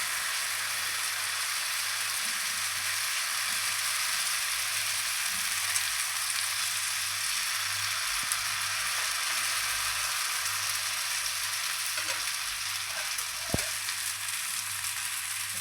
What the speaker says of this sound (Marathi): थोडं अजून तेल टाकून आणि दोन मिनटासाठी शिजवून घ्या